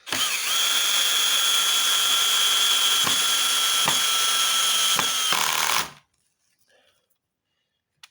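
Power drill driving screws into a wooden pergola with a bench, a loud steady whine running for about six seconds with brief dips between screws, then stopping into near silence.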